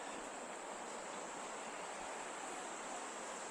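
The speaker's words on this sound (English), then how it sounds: "That's the water coming from the hatchery." Water pours out from a fish hatchery at a campground, a steady even rush of flowing water that stays constant and fairly close, with no talking.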